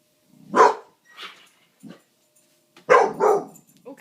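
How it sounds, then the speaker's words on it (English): A dog barks at an RC truck in a few sharp, close barks separated by gaps, one short pair near the start and a louder double bark later, with softer yips in between and otherwise quiet surroundings. "He's got a mean bark."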